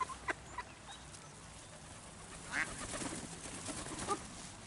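Faint duck quacks from a pond come in a few scattered bursts over a quiet outdoor background.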